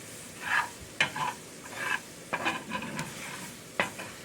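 Onions softening on low heat in a pot for chicken and sausage gumbo, a quiet sizzle with intermittent scraping stirs of a spoon, close but faint, no talk.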